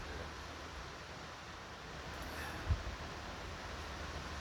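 Steady heavy rain on a wet winter day in rural New Zealand, heard outside near a large shed as a constant broadband wash with one brief low thump, no talking.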